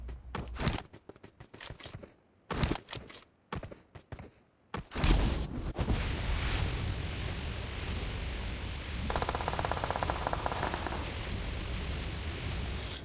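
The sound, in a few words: gunfire in a video game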